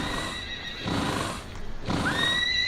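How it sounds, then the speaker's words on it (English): Several very large horses at a horse farm neigh and whinny loudly and close by, with long shrill calls rising over a steady background of stamping and movement, and no voices. "this is known as the Furtehof, which I believe translates loosely to bloody noisy giant horses"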